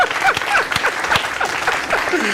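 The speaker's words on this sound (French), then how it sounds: "Acclamation pour Madame Fanta Guindo." Applause and cheering for Madame Fanta Guindo at a women artists' event, close, lively clapping with rising whoops and shouts from the crowd mixed in.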